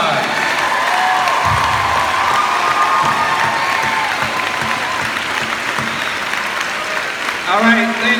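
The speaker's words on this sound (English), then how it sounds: "Let's give them all a big round of applause." High school audience at a 2019 move-up ceremony applauding and cheering for a second-place state team, dense sustained clapping with shouts, a voice over a loudspeaker briefly at the end.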